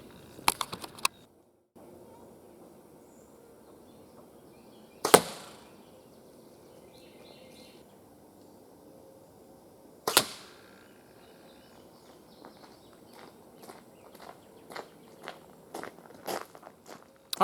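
Arrows shot from a bow through paper during bare shaft tuning land with two sharp, loud impacts several seconds apart, followed by a decaying ring, between quieter clicks, shuffling and handling sounds.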